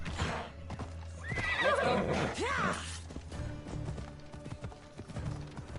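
Horse neighing and hoofbeats in the Assassin's Creed Odyssey video game: loud whinnies over steady clip-clop, with game ambience and scattered rustling continuing after.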